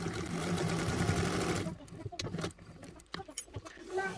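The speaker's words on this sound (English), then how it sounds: "So we're sewing right on those two longer lines." A home sewing machine stitches along the long lines of a Pandora Allure bag project, running in a dense steady whir for over a second before stopping, followed by scattered clicks and handling noises.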